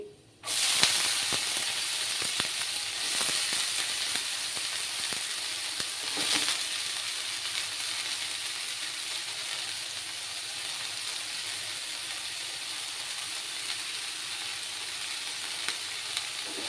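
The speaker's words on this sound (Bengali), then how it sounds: "এবার আমি শাকগুলো দিয়ে দিচ্ছি।" Red amaranth greens hit hot oil and fry with a loud, steady sizzle from the start, broad and continuous throughout, with occasional stirring clicks and a brief surge partway through; no voices.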